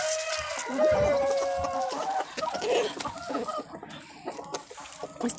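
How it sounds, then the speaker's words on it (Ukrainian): Chickens cluck in a steady stream, with a hen's drawn-out call rising near the start amid busy farmyard noise. "Така невеличка сім'я, півник з курочкою."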